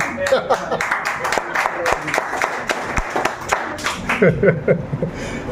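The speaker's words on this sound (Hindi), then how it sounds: "आप तालियां बजाएं" An audience at a Hindi poetry recitation applauds with a dense wash of steady hand claps, sharp individual claps standing out and some voices mixed in near the end.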